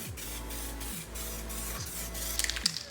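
Aerosol spray can hissing steadily as it paints an engine, a continuous close-up spray with a slight flutter and a few small clicks near the end.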